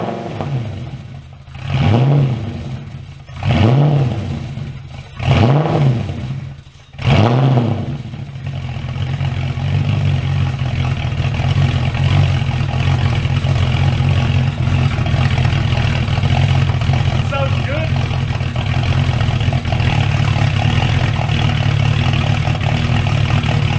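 A V8 engine swapped into a Porsche Cayman gives four sharp, loud revs in quick succession, then settles into a steady, rumbling idle that runs on without a break.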